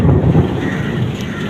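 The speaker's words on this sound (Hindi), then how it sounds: "बारिशों का सिलसिला शुरू हो गया" A heavy rain shower hisses steadily in Malaysia while a low thunder rumble swells at the start and fades, with wind gusting over the microphone.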